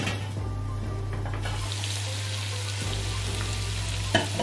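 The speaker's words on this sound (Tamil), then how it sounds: "லைட்டாக தண்ணியை தெளித்து நான் வதங்க வைக்கிறேன்" Onions for chicken biryani sauté in a pan after a light sprinkle of water, giving a steady close hiss and sizzle with a low hum beneath and a brief clatter near the end.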